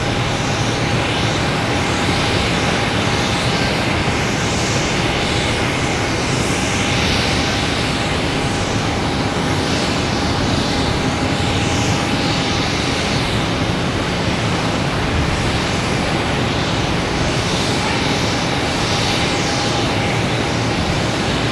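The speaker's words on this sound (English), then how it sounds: "Delta heading to Chicago, an A220, flight number 2646" A Delta Airbus A220 jet at Boston Logan sends up a loud, constant engine roar with a thin steady whine, unbroken for the whole stretch and with no one talking over it.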